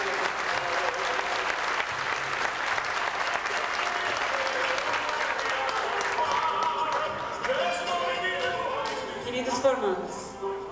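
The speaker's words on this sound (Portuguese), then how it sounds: "Uma salva de palmas para eles, por favor." Audience applause for graduates at a 2001 graduation ceremony, a dense sustained wash of clapping from a large crowd, with voices and some tonal music rising in the last few seconds.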